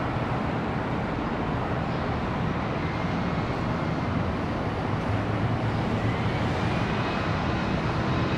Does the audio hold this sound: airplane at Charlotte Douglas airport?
yes